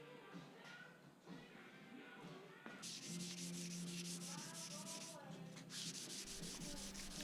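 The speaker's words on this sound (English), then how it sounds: "sanding our Rust-Oleum 1K primer with 400 grit, just getting it ready for paint" Rust-Oleum 1K primer being sanded by hand with 400 grit sandpaper on a Daihatsu mini truck body, steady rhythmic scratchy strokes that grow louder and denser midway, close up with no talk.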